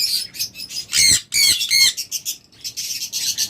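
A pair of caged birds offered for sale squawk and chatter in loud, rapid bursts close by, harsh calls tumbling over one another with brief gaps.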